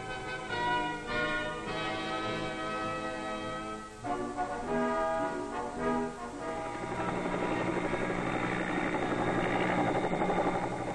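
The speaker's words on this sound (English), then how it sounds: "It's the giant United States Army Chinook helicopter, and the downdraft from the huge rotors nearly blows them off the flight deck." A US Army Chinook helicopter on a ship's flight deck, its huge twin rotors and engine producing a loud, close, droning whine with rhythmic beating that grows into a steady roaring wash.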